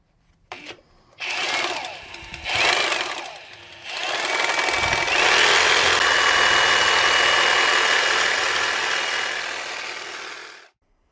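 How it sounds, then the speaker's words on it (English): A battery-powered Milwaukee Sawzall reciprocating saw, which had earlier thrown sparks and died, runs on test: two short bursts of close, loud motor buzz, then a steady run of about six seconds before it cuts off. "Finally, I can put my battery in it and take it for a test ride."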